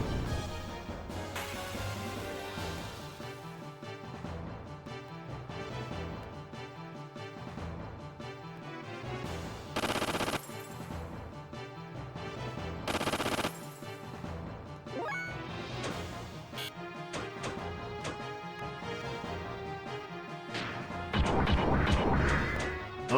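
Gear guns fire during a mecha battle in the Xenogears video game, with repeated crashing, whacking impacts and bursts over continuous game music, loud and busy with occasional sharper blasts.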